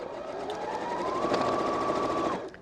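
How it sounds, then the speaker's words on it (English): Sewing machine stitching quilt block strips together for a Christmas tree quilt block, one continuous close whirring run for about two seconds that stops cleanly, no talking. "when you sew these strips together"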